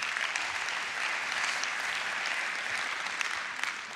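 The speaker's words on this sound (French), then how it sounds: "On peut l'applaudir quand même, s'il vous plaît" An audience at an awards evening applauds a laureate, with even, sustained crowd clapping that holds steady throughout.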